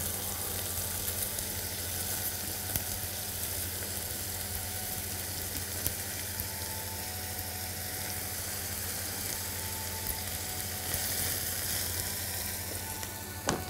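Onion frying with cabbage in butter and oil, giving a steady, dense sizzle that stays loud and even throughout, with a few faint clinks of a utensil stirring the pan.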